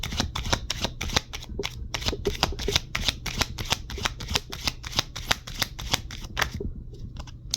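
Tarot cards shuffled in a steady run of crisp, rapid riffling flutters close by, each burst sharp and papery over a low background hum, tapering off near the end.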